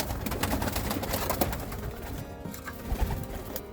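Roller and homing pigeons cooing close by in a loft, soft repeated throaty coos over a busy background of shuffling and rustling, with occasional louder bumps and no talking.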